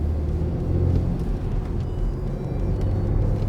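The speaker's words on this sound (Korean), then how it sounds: "이제 드라이브, 기어도 드라이브 이렇게 천천히 갈 때 있죠" A BMW M340i rolls slowly in drive gear with a low, steady engine rumble and road noise heard from inside the car, even and unhurried with no revving.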